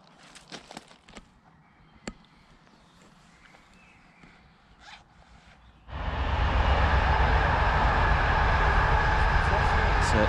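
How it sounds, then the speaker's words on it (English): Tesco freight train passing close by on the line near Treeton and Catcliffe in Sheffield: a few quiet footsteps and rustles first, then a sudden loud, steady roar of wagons rolling past for the remaining seconds. "It's a Tesco train just in front there"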